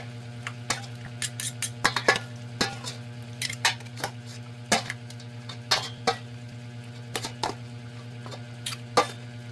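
Pork being mixed with calamansi juice in a bowl for pork menudo, a steady series of light clinks and wet scraping taps repeating irregularly over a constant low hum, close and moderately quiet.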